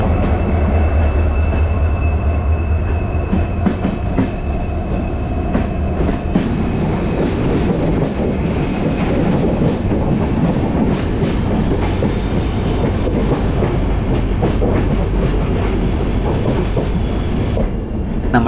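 Passenger train with a Vistadome coach pulling out of a station on the Mangaluru–Yesvantpur route, a loud continuous rumble of rolling wagons with wheel clatter and occasional faint squeals, steady throughout with no talk.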